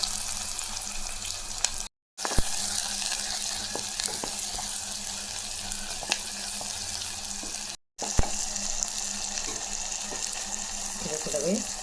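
Chopped onion frying in hot oil with popped mustard seeds in a pan, a steady, close hiss of sizzling throughout, with a couple of brief clatters as the onion goes in.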